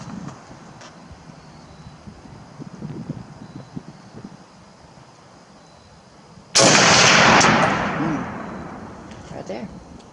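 A single M1 Garand rifle shot fired at a shooting range cracks out loud and close, with a rumbling decay after it, following several seconds of quiet outdoor wind and rustle.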